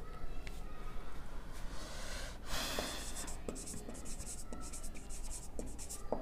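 Pen or pencil writing a heading by hand on paper, close scratchy strokes with short pauses between words, steady and fairly quiet.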